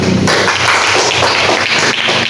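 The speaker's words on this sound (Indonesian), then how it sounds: "Oke, tepuk tangan dulu." Loud, dense applause from a school classroom, many hands clapping steadily and close for a couple of seconds with no talking over it.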